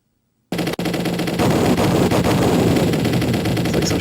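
Dense, rapid shoot 'em up arcade gunfire bursts from an Evercade Alpha cabinet pour out nonstop after a brief silence, loud and close with a constant crackle.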